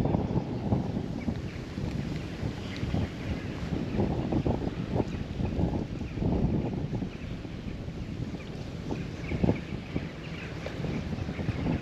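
Strong wind buffets the microphone in steady, rumbling gusts while fishing, with low roaring noise throughout and no talking.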